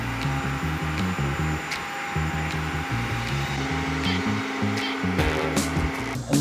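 Trenching equipment laying a high-voltage power line produces a continuous mechanical drone with rumbling, stepping engine tones that shift in pitch, heard at moderate distance without pause.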